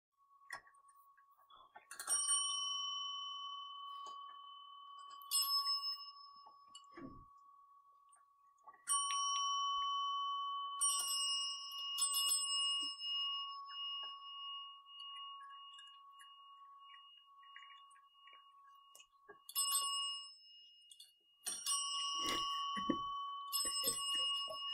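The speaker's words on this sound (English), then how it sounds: "the cats have learned if they ring the bell, they get a treat or they get a reward" Cats ring a small bell during treat training, producing bright, clear metallic dings in scattered bursts, some single and some rapid clusters, with quiet gaps and faint shuffling between rings.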